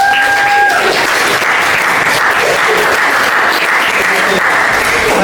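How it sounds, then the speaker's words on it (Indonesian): Loud, close applause from a group of students in a Catholic religion class, a thick continuous burst of clapping with a brief tone at the start and faint voices mixed in. "Oke, tepuk tangan untuk Yesus"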